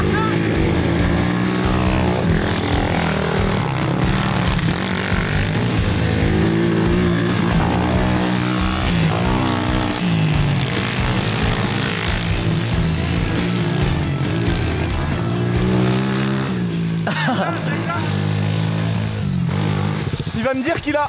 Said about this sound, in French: c'est une YCF, ça démarre tout le temps